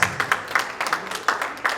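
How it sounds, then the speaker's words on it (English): Scattered clapping from an audience at the conferment of the Ooni of Ife as Grand Patron of REDAN in Lagos, sounding as a few uneven, moderately close claps rather than a full ovation. "a round of applause"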